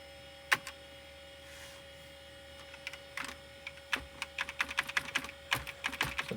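Keys are pressed on a Pentium 133 PC keyboard, starting with sparse single clicks and building into a quick irregular run of taps, close up over a faint electrical hum.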